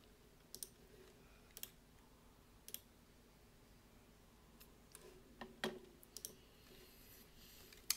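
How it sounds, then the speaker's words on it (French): Scattered clicks of computer keyboard keys pressed while playing World of Warcraft, single and double taps at irregular intervals, close and quiet against a faint background hum, no talk. "si j'appuie sur 1 au haut de mon clavier, hop, et ça déclenche mon attaque"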